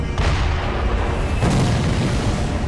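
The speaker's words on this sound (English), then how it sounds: "That was a cannon? Was that a fucking cannon?" A cannon firing in Sekiro: Shadows Die Twice, delivering loud booming blasts with a heavy rumbling tail over the game's ongoing sounds.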